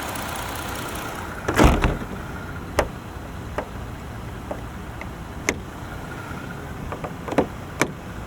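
A person climbs into a 2024 Jeep Gladiator Mojave X, marked by one solid door thud followed by a scatter of light clicks and taps. A low engine idle hums steadily underneath.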